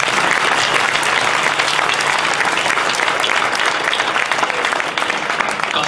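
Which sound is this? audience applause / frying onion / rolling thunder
audience applause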